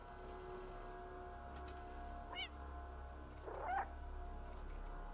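Cat in the video game Stray giving two short meows, the second longer and rising, faint over a low steady game ambience hum.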